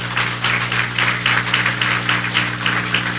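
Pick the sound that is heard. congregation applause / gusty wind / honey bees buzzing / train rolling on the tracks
congregation applause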